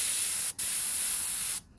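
An airbrush sprays shading in two loud, continuous hissing bursts, each cut off by a brief pause, heard close with no voices.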